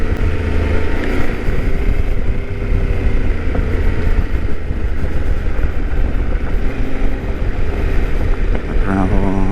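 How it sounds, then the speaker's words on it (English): A Yamaha Tenere 700 motorcycle engine on a gravel ride, a loud, steady, throbbing drone mixed with wind buffeting and rough road noise, with the revs rising and falling slightly. "It's a lovely sounding engine."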